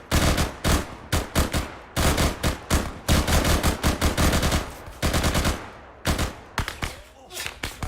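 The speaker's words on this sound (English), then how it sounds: "Not expecting them shooting me." Rapid automatic gunfire in a video game squad operation, loud bursts of machine-gun fire in dense rhythmic volleys with brief pauses, close and dominant throughout.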